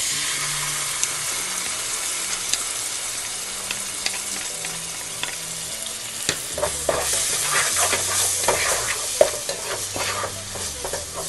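Spoon scraping and stirring chicken 65 with tomato paste in a hot pan, a steady sizzle of frying underneath with irregular clinks and scrapes, close and moderately loud.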